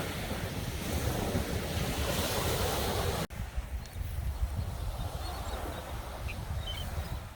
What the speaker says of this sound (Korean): 파도 소리와 함께 들리는 새 소리가 참 이쁘죠.